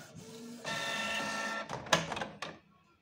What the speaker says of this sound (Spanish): Así que lo mandamos a imprimir y nuestra impresora